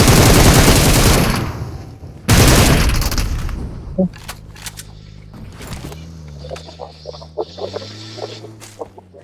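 Dense loud bursts of rapid gunfire in PUBG Mobile fill the first seconds, then scattered shots and game sound effects follow.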